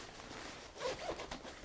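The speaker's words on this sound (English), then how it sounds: "Zip feels a bit flimsy, but hopefully it'll do the job." Zipper on a budget heated motorcycle jacket with a down-style padded body, one quiet, close zip pulled in a single short stroke with a couple of small rasps.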